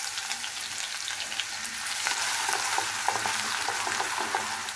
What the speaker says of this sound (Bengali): এখানে আদা রসুনটা আমার ভাজা হয়ে গিয়েছে।